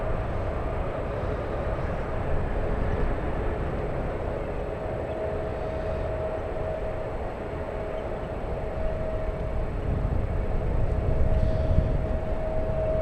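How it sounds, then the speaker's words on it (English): A Boeing 787 Dreamliner takes off, heard as a steady, distant broadband roar with a faint tonal whine that swells slightly toward the end, with no talk. "Dreamliner taking off. Very nice noise from that one."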